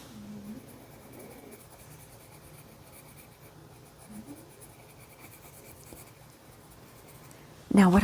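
Colored pencil strokes rubbing on paper while filling in brown on a simple flower drawing, a soft steady scratching that runs quietly throughout, with a sudden louder burst near the end.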